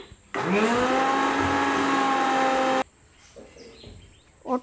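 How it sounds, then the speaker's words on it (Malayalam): A kitchen mixer grinder blends watermelon chunks with their seeds and no added water, roaring loud and steady for about two and a half seconds before cutting off into quiet room noise with a faint bump at the end. "ഇനി ഇത് കുരു സഹിതം മിക്സിയിലൊന്ന് അടിച്ചെടുക്കട്ടെ"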